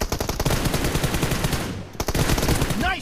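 Automatic gunfire from PUBG Mobile rattles in loud, rapid bursts close by, with a brief break midway before the shooting resumes.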